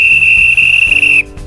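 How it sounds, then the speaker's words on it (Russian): A head judge's final whistle at an amateur fishing competition, one loud sustained shrill blast lasting over a second before cutting off, heard close and alone. "Сейчас главный судья даст финальный свисток."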